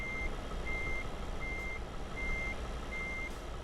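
Reversing alarm of a truck in Euro Truck Simulator 2, five steady evenly spaced beeps over a constant loud engine rumble.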